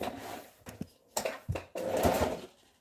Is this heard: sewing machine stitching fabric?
yes